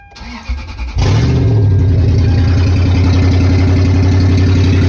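A Toyota Sequoia whose catalytic converter has been stolen cranks and fires up after a second, settling into a very loud, deep, raspy exhaust rumble that holds steady at close range.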